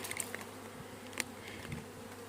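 Honey bees hum around a hive during outdoor feeding, a faint steady drone with brief louder passes of individual bees flying close.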